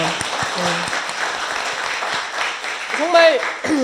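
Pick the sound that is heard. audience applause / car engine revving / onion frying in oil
audience applause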